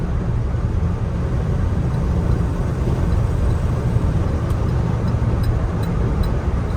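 Steady, loud road roar from a 1981 Jeep CJ-7 Laredo with a 4-speed cruising at about 55 mph in fourth gear, with constant engine and wind noise and no break in the drone.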